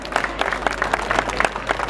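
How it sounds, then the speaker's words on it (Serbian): A crowd claps for the contestants in a contest for the prettiest young wife at the Voloderske Jeseni 2013 village festival, a steady ripple of hand claps lasting the whole two seconds with no voice over it. "Ja vas molim veliki pljesak za sve naše snehe"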